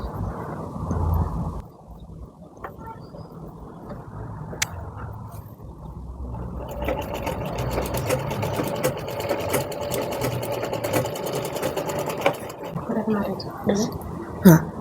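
A sewing machine stitches a four-tuck blouse, its run starting around the middle and continuing steadily with a dense mechanical whir until near the end, after quieter stretches where someone talks.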